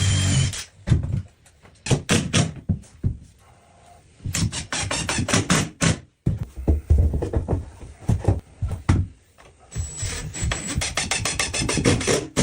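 A handheld drill fastens wooden floor planks to the frame of a traditional Japanese house, with repeated short bursts of whirring and rattling, knocks and scraping of wood between them, close and fairly loud.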